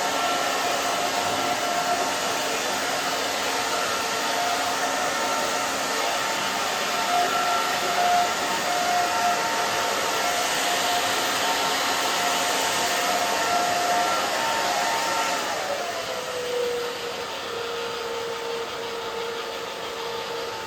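A hair dryer blows steadily on a kid's hair during a haircut, a loud, continuous close whirring with a constant pitch that shifts slightly near the end, with no talking.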